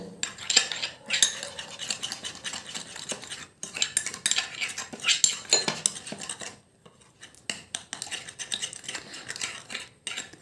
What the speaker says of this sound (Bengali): এবার আমি সব উপকরণগুলো ভালো করে মিশিয়ে নেবো